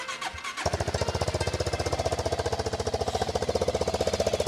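A Honda CB400SS or Suzuki Grasstracker 250 motorcycle engine catches after a brief start attempt, then settles into a loud, steady, rapid idle thumping close by with no voices.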